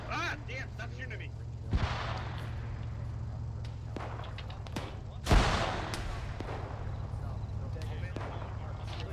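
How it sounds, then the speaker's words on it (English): Gunfire in a military shooter game: two sharp shots crack out over a steady low rumble while players talk over voice chat. "stop shooting at me"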